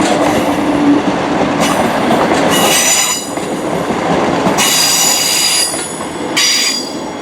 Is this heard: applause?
no